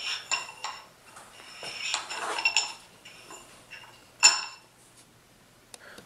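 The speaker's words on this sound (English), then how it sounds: "grab that AR wrench and torque it down the rest of the way" An AR wrench clinks and scrapes against the metal barrel nut while it is tightened on an MK12 Mod 1 SPR rifle upper, giving scattered close metallic taps with one sharper clank near the end.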